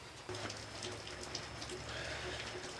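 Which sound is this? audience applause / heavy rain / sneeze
heavy rain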